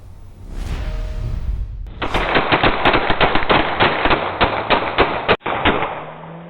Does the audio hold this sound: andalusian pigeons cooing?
no